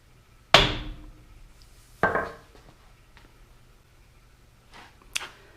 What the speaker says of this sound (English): We want to give it a tap to loosen the axle from the wheel assembly.